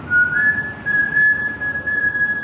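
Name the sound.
whistling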